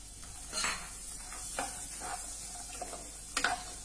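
Carrot pieces and whole sweetcorn kernels are sautéed over medium heat, giving a soft, steady sizzle broken by several quick scrapes and clinks of a spatula against the pan, with a sharper clatter near the end.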